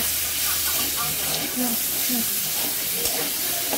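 Spices for a cabbage curry frying in a pan give a steady, close sizzle and hiss throughout, with faint clinks of stirring.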